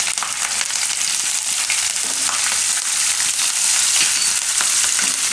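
Asafoetida fries in hot oil with ginger and chilies for a Gujarati carrot and pea pulao, a steady, close, loud sizzle with faint stirring scrapes and no voices.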